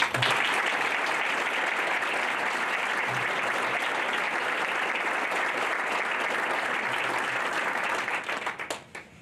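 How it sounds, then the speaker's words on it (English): Sustained, dense audience applause for volunteer sponsors and donors at a Shad Derby gala, loud and even throughout before fading out with a few final claps at the end. "Please join us in a round of applause for all our volunteer sponsors and donors."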